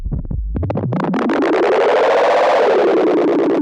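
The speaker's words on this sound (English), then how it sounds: "add some more level to our input as it comes in. And you'll notice we start getting some feedback here." Loud feedback from the Echo delay device in Ableton Live 10: a few sharp stuttering hits that quickly swell into a sustained, distorted, ringing drone, with no voices.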